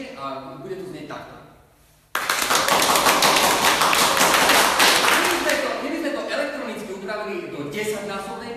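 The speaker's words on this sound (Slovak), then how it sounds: "Áno, my to nahrávame, ten potlesk, a potom ho púšťame v niekoľko násobnom, tomto teraz to dáme napríklad o 3-krát hlasnejšie a bude to znieť takto" Recorded applause is played back three times louder, a dense wash of clapping that bursts in abruptly after a short quiet gap, holds loud, then tapers slightly, with talking before and around it.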